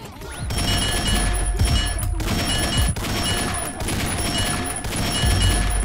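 Bursts of rapid gunfire ring out in a Russian roleplay driving-and-shooting game, loud overlapping shots in quick volleys that pause briefly and resume, with some impact thuds mixed in.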